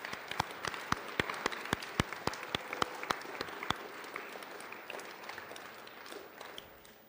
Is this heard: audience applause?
yes